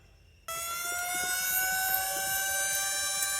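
A war-scene siren switches on abruptly after a short pause and wails steadily and loudly, holding a high, sustained tone.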